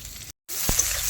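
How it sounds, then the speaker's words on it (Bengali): Chopped onions sizzle in a pan over a strong flame before meat goes in, a brief steady frying hiss broken by a short dropout. "পেঁয়াজ দিয়ে দিয়েছি, পেঁয়াজটা ভাজা ভাজা হলে মশলা হলেই মাংসটা দিয়ে দেবো।"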